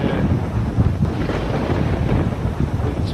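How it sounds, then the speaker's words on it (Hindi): Village thunderstorm with strong wind roaring across the microphone and low rumbling thunder underneath, dense and loud throughout with rain-like hiss, no voices. "तूफान आंधी और बिजली कड़क रही है।"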